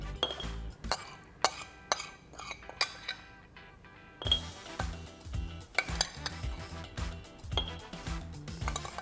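A homemade ras el hanout spice mix is tipped and spooned into an airtight glass jar, giving a run of sharp clinks and taps of metal against glass, close and crisp, with a short quiet pause partway through.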